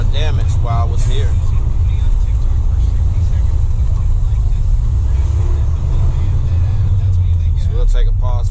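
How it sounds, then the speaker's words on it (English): Cars roll past on a road after a storm, a steady heavy low rumble of traffic running throughout at close range, with a few faint voices and chirps above it. "We'll take a pause for the cars."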